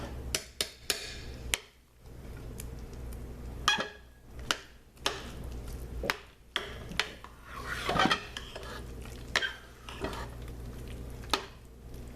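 A spoon scrapes and knocks inside a cooking pot, breaking up chunks of goat's milk soap gel cooked on low, giving intermittent clinks and rubbing scrapes at close range with no talking.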